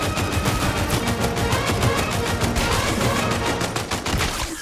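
Rapid automatic gunfire from the video game Highguard, a loud, dense run of rattling shots that continues without pause throughout.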